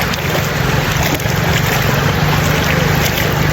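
A motorcycle rides through water on a flooded road, a dense continuous wash of splashing and rushing water with a low engine drone beneath, loud and close throughout.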